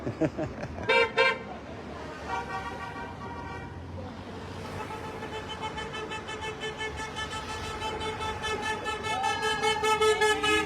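Car horns on a busy road beside a protest on Belfast's West Circular Road: a sharp double toot, then sustained honks and traffic rumble building, with voices faintly beneath.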